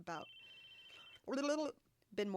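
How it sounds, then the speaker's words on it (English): A telephone rings in the visual novel game Chaos;Head Noah, a thin steady electronic tone held for about a second between bursts of spoken dialogue. "The phone kept ringing."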